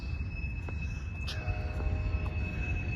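A train rumbles past, its steady low roar joined by faint metallic squeals from the wheels.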